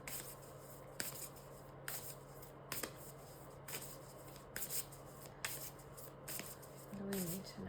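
Playing cards drop and flutter in a series of quick papery slaps, roughly one burst per second, close and fairly soft, with a low steady hum underneath.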